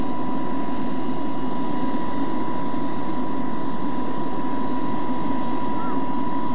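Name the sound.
old helicopter flying overhead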